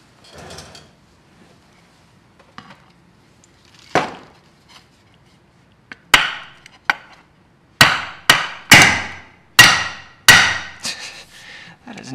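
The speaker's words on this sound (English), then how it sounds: "Do I need a hammer again?" Sharp hammer blows tap 3D-printed parts of a geared winch into place, a few scattered knocks at first, then a fast run of loud, ringing strikes close by with short gaps.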